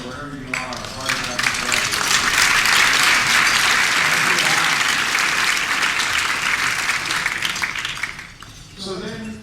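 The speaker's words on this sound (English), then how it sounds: "a round of applause for Al, wherever you are" A dinner audience bursts into sustained applause, dense steady clapping that swells quickly, holds for several seconds and tapers off, with crowd murmur mixed in.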